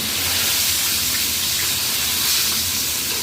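Chicken pieces fry in hot oil, giving a loud, steady, close sizzling hiss that runs unbroken with no stirring or talk.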